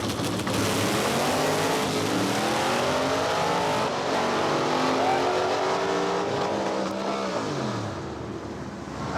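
Roadkill's supercharged drag car with the larger blower pulley, about 1050 horsepower, makes a pass: a loud, continuous engine roar that climbs through rising gear sweeps and keeps going, with no talk over it.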